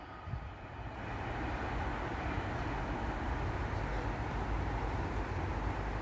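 An East Midlands Railway Regional train passes through Dore and Totley station as a steady, loud rumble. It swells over the first second and then holds a sustained roar with no voices.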